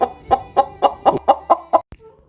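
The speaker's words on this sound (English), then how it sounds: "chicken." A farm chicken clucking: a quick, even series of about eight close, short clucks, then quiet.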